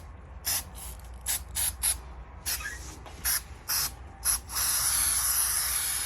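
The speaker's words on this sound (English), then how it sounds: "So I'm spraying both at the same time" Short bursts of aerosol spray, about eight separate hisses, each lasting a fraction of a second, while adhesive goes onto a car roof headliner during a sunroof headliner repair, then a longer continuous spray at the end.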